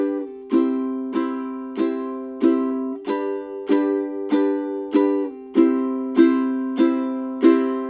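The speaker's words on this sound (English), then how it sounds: "The first is to just play down strums," Ukulele playing single down strums through a song intro, a dozen bright, evenly spaced strums, each ringing and fading before the next, played alone and close.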